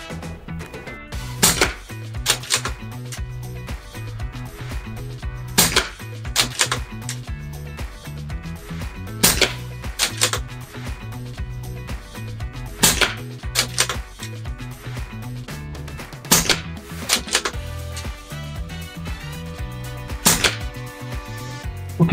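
An air rifle firing .177 pellets at a reactive target outdoors, with sharp isolated shots spaced a few seconds apart, each followed by a faint metallic tick of the target. The shots are moderately loud over a low background with no talk.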